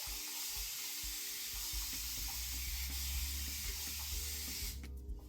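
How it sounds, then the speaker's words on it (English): Water sprayed from a bottle onto a section of curly natural hair, a continuous soft hiss lasting several seconds close to the microphone before cutting off abruptly. "spray it with a good amount of water"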